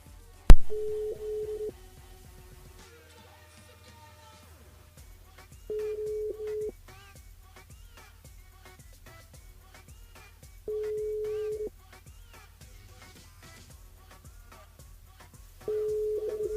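Telephone call that fails to connect: a sharp click, then a busy signal beeping in four separate steady tones spaced several seconds apart, with faint background noise between them.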